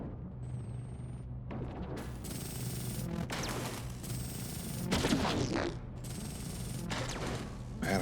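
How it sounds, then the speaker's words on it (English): Rapid torpedo fire in the space strategy game Endless Space 2, with repeated mechanical launch clatters and impact bursts over a steady electronic game hum, loud and busy throughout with several heavier crashes midway. "It looks like they're firing torpedoes"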